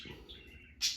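A pet bird gives a short, sharp chirp indoors, a single bright call near the end of a brief quiet moment.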